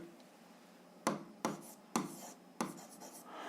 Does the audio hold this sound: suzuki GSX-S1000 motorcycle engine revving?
no